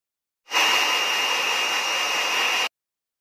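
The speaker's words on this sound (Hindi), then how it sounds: "मैंने ये नोवा का ड्रायर लिया है" A Nova hair dryer blows steadily as it dries hair during an at-home rebonding treatment, a loud, even rushing whir that starts abruptly, holds for about two seconds and cuts off sharply, with no voices.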